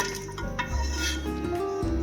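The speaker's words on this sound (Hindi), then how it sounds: "अब इसको मैं अलग रख रही हूँ डिश में।" Boiled mutton being moved into a dish in a home kitchen, a few light clinks of metal and glassware over a low steady hum, close and fairly quiet.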